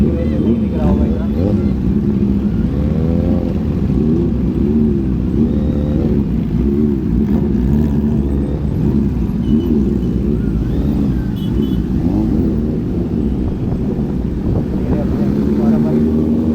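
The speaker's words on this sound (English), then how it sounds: "पता आपको आवाज़ आ रही होगी, बट ये जो 3 ZX 10R चलती हैं" Three Kawasaki ZX-10R superbikes riding together at a road safety event, a continuous loud engine drone with shifting revs that rises and falls throughout, mixed with wind noise and faint voices.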